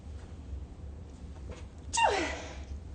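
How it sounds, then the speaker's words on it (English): A single sharp sneeze bursts out after a quiet moment, fairly close and brief, over a faint low background hum. "oh, sorry, I'm going to sneeze."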